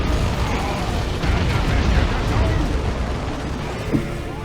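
Battle noise from units firing in the Warhammer 40k strategy game Dawn of War 2 Retribution, a dense, steady wash of gunfire and explosions rumbling throughout, with a brief louder pop near the end.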